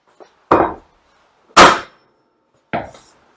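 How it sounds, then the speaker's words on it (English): Three sharp, loud hammer blows land on a hardwood block pressing bearings onto a shaft of a Rolls-Royce Merlin MkXX reduction gearbox, each a solid woody thud spaced about a second apart, preceded by a tiny tap. "I'm going to use a block of hardwood and a hammer"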